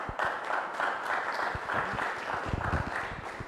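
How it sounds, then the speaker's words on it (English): Audience applause at a training and professional development gathering, steady dense clapping filling the whole stretch at moderate volume, with no talk over it. "Clap for them."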